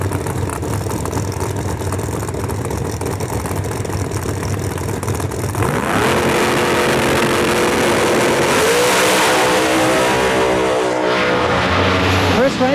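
A Camaro drag race car launches hard down the strip at a National Trail Raceway outlaw event, its engine note rising sharply and loudly, with steady background roar before and talk over the scene.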